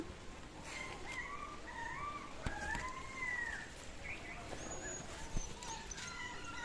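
Dogs outside in the rain whimper and whine in thin, wavering high cries over a constant hiss of falling rain, fairly faint and at a distance.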